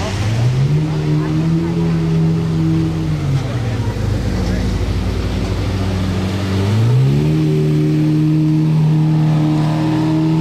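A new BMW M3 passes close by, its engine note climbing and dropping as it revs and accelerates, loud and near, with a person talking over it.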